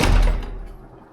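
A door is pushed shut with a single heavy, close thud at the start, followed by a short fading rattle as it settles into the frame.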